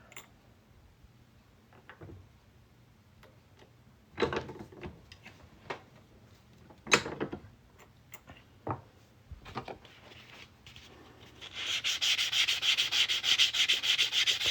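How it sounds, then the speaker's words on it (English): A sharp deburring tool scrapes the edge of a coin ring made from a Georgia State quarter. Brief scattered scraping strokes come first, then a loud, continuous close-up rasp at the end. "It's a really sharp blade. It's called a deburring tool."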